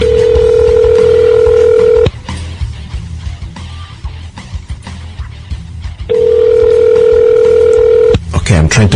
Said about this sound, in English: I'm trying to call Mr. Francisco Oquendo.